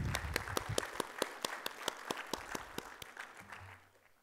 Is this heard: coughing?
no